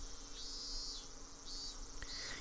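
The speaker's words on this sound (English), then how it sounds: "the voices of the cicadas were entering through the air hole somewhere, giving it a very mysterious feel." Cicadas drone in Higurashi When They Cry, a high, shimmering buzz that swells and fades in overlapping waves over a faint low background, steady and unbroken across the clip.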